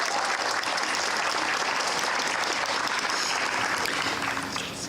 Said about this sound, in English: So one round of applause, another round of applause for Brian